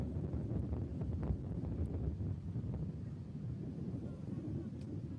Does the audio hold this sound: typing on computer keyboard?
no